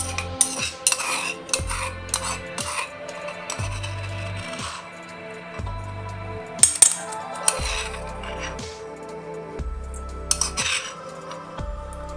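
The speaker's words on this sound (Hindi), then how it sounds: "और इसको अच्छे से हम मिक्स करेंगे।" A spoon or utensil stirs and clinks in a bowl while a cabbage cutlet mixture is combined with coated garlic and chilli, giving steady scraping and metallic taps with repeated low thumps, close and without talk.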